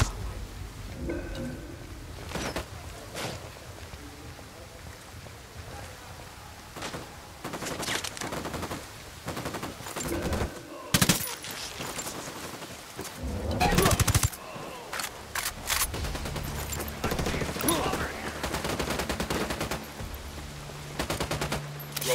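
Gunfire fills a Ghost Recon Wildlands mission, with rapid automatic bursts and scattered single shots, some near and loud, others distant, mixed with game music and radio-style voices talking.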